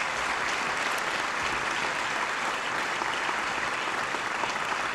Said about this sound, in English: Please let's give our presenters one more big round of applause.